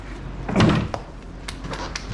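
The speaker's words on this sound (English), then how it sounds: "Wyatt, shut that door" A door on a hobby farm swings shut with one solid thud near the middle of the clip, followed by a few lighter knocks and rattles against low background noise.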